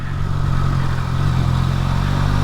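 A 2022 Triumph Tiger Sport 660 motorcycle engine pulls steadily at low speed in fourth gear, a loud, continuous low drone with a smooth, unbroken note and no talk over it.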